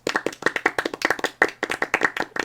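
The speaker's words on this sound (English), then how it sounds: "Studio audience, can we get an applause?" Canned applause sound effect from a soundboard played during a studio talk show, a short burst of crisp, rhythmic clapping heard alone and fairly close.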